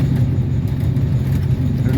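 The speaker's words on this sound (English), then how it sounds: "These high rail trucks don't ride real smooth" A high rail truck rides along a railway track on rough ballast near a bridge, giving a steady, close, continuous low rumble of engine and wheels with no breaks.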